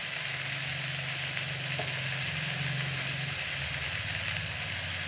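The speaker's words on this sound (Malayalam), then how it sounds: "അപ്പോൾ ചീര അടുപ്പത്ത് തോരന് ഇടുന്നുണ്ടോ" Green spinach frying on a stove for thoran, a steady close sizzle that continues evenly throughout with a faint low hum beneath it.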